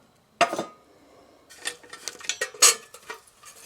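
A metal number ten can wood gas stove is flipped over, giving one sharp tinny clank followed by a cluster of rattling metallic knocks and scrapes close by.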